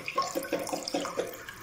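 Strong water flow gushing from a freshly cleaned faucet, a steady close splashing rush with a slightly bubbling, pulsing texture.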